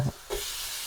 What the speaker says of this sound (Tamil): வெங்காயம் நல்லா வதங்கி வந்துடுது வேறங்க